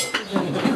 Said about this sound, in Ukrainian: Ще будемо тарілки цокати.